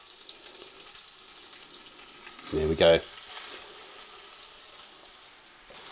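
Beef sizzles and crackles steadily in a hot Ninja slow cooker pot, a soft continuous frying hiss with a brief spoken remark partway through.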